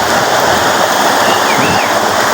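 Rushing water at Gold Spring, Aguakan, pours in a steady, loud, unbroken roar like a small waterfall, with no voices over it.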